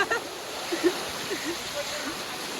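Floodwater released through the Bhasta dam gates rushes past in a steady, loud, broadband roar that never lets up, with faint voices under it.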